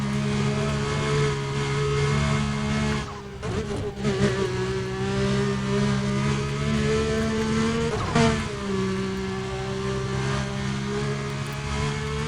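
A tuned car in the racing game Need for Speed: Undercover drones with a steady, loud engine hum, briefly dipping and surging around gear shifts, with no talk over it.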